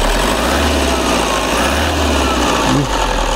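A Toyota Innova engine is revved up close, a loud continuous roar whose low pitch rises and falls over a few seconds, with no voices.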